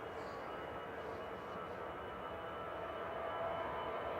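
An EasyJet airliner departs runway 23 left at Manchester Airport, a steady broadband jet roar held at a constant level throughout, with no talk over it.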